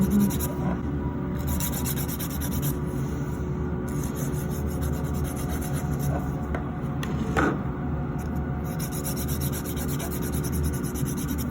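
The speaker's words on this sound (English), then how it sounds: "So filing back and forth is not actually bad for the nail." A nail file is rubbed back and forth across fingernails during a manicure, making a continuous close, dry rasping scrape without pauses or talking.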